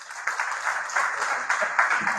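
A seated crowd at the closing ceremony of a digital-skills training for Malian women applauds itself with steady, dense clapping that holds for the whole brief moment.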